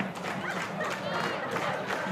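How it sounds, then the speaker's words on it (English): A Canberra United home crowd applauds a goalkeeper's save during a women's A-League football match against Adelaide United, a steady wash of clapping and cheering that fills the whole moment. "The Canberra crowd voicing their appreciation for that save"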